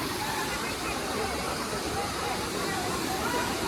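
A waterfall at the Kileshwar Mahadev temple pours steadily where people bathe, giving a dense, close, unbroken roar of rushing water that holds at the same loudness throughout, with no voices standing out.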